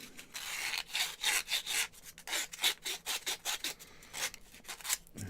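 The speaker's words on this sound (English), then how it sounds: "Let's give that a quick bit of sandage," Curved sandpaper rubs back and forth inside a hole in wood, quick rhythmic scratchy strokes, close and fairly soft, about a dozen passes in a steady shifting rhythm.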